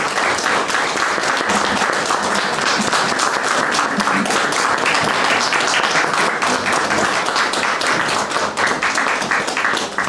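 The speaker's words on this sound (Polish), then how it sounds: "Zatem gorące brawa dla młodych wykonawców." Warm applause from an audience for young performers at a local event, steady dense clapping filling the whole stretch, loud and continuous with no talk over it.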